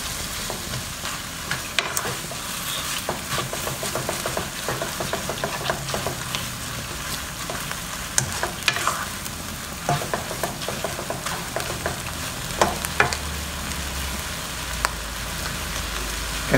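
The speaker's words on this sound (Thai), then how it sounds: "ช่วงที่ผัดอยู่นี่ถ้าเกิดว่าน้ำมันแห้งก็เติมน้ำเข้าไปได้นิดหน่อยนะครับ" Pad thai stir-frying in a pan: steady sizzling oil with repeated scraping and tossing strokes of a spatula, close and continuous throughout, with no voices.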